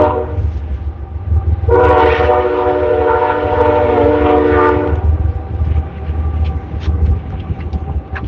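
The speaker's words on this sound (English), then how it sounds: "We got a train." Train rolling past outdoors beside a garden, its loud horn sounding one long sustained blast over the steady rumble and clatter of the cars.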